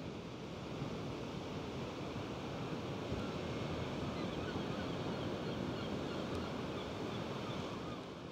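Ocean surf rolls in at Bedruthan Steps on the Cornish coast: a steady, broad wash of breaking waves mixed with wind noise, continuous and fairly even throughout.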